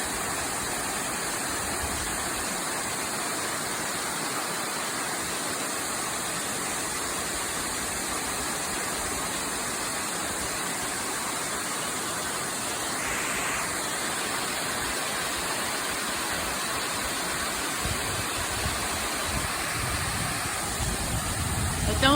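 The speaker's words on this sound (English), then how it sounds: "there are waterfalls all around us." Waterfalls at Rock Island State Park roar as a broad, constant hiss of falling water that holds steady and fairly loud for a long stretch.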